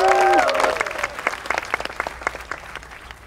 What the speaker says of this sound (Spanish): Vamos a animarla para que hable con este gran aplauso